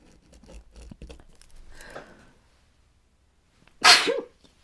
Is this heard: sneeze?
yes